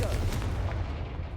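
Bombarda and Confringo spell blasts in the Hogwarts Legacy video game, a loud, dense booming explosion with heavy low rumble that stays strong and slowly tails off over about a second.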